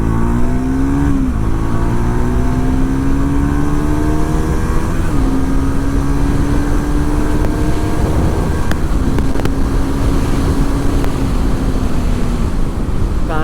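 A Triumph Tracker 400 motorcycle with a 350cc engine accelerates while being ridden, loud and close. Its engine note climbs in pitch through each gear, then drops at each shift, with wind roar underneath.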